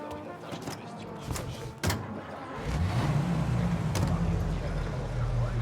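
Taxi car in the video game Mafia, a door clunk and short knocks, then a low engine hum rising as the car pulls away and drives steadily, with people talking over it.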